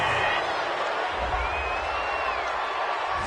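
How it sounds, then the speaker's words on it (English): A home crowd cheers in an American football video game on PS4 after a defensive interception call, a steady, dense roar that fills the whole three seconds at even loudness. "This home crowd, they're happy with that call."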